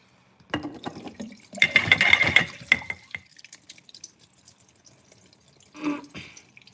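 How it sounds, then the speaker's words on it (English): Apple cider vinegar pours into a 16-ounce bottle in a short gurgling run, then stops, followed by a few small clicks and a brief second splash; close, with no talking. "Apple cider vinegar time."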